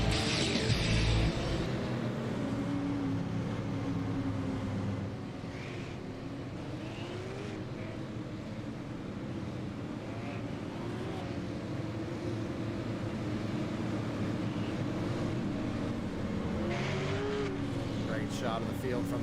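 Super late model race cars warming up on the short track at Thompson Speedway, their engines droning steadily from mid-distance while tires scrub and brakes heat. A commentator talks over it throughout.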